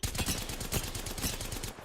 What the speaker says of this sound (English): I'm about to shoot him.